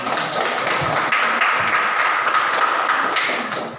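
Students in a junior high school math class clapping for a group, a dense burst of many hands applauding together, close and steady before tapering slightly at the end.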